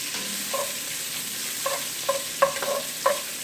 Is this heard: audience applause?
no